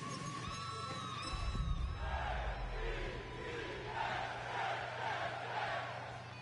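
Stadium crowd in the Madden 26 football game between the Dolphins and Jets, a sustained roar with rising swells and shouts, loud and continuous over a low hum, with no voices speaking distinctly.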